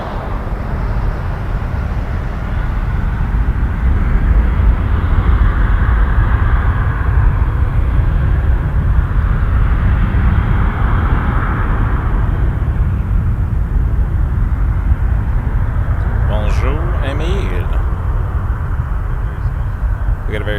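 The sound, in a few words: Saudia Boeing 787-9 airliner departing Toronto Pearson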